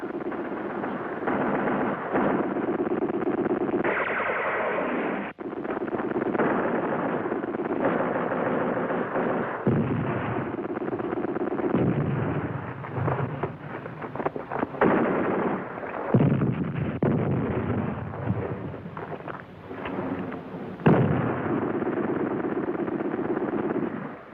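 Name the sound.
mortar fire in a war film battle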